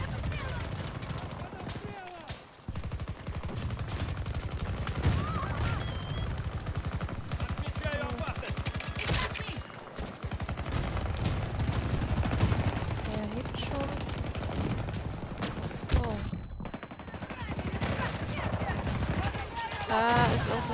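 Rapid automatic gunfire and scattered shots crackle through a Battlefield 2042 Breakthrough match on the map Reclaimed, keeping up nearly nonstop for about twenty seconds while a player talks over the action.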